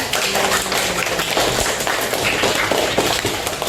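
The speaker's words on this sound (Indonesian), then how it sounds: "Oke, kasih aplaus." An audience applauds a group presentation, a dense continuous patter of many hands clapping at once, steady and close for the whole stretch.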